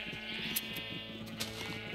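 Sheep bleating in the Minecraft video game, a steady wavering bleat lasting the whole moment, fairly quiet and heard alone.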